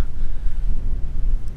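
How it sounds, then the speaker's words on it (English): Steady low rumbling wind buffets the microphone outdoors on a street, a constant blustery roar with no voices. "It's so windy out here."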